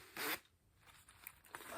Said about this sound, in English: and then a little zipper